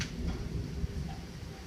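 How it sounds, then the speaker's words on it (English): A bad thunderstorm rumbles with low, steady thunder that fills the whole moment, a dense broad roar with rain-like hiss and no clear separate cracks. "This is a really, really bad thunderstorm."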